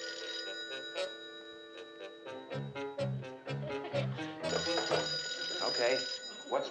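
An old telephone bell rings in repeated bursts in a sitcom scene, bright metallic trills alternating with people talking over and between the rings.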